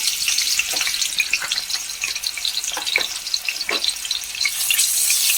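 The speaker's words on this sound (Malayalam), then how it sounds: "കുറച്ച് ഇഞ്ചി, വെളുത്തുള്ളി, പച്ചമുളക് ചതച്ചത് ഇട്ട് കൊടുക്കാം" Crushed ginger, garlic and green chilli, frozen into a lump, sizzle steadily in hot oil in a pan, a continuous bright crackle with occasional louder spits and stirring scrapes, close and alone without talk.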